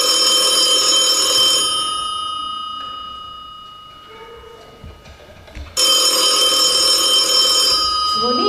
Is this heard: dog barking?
no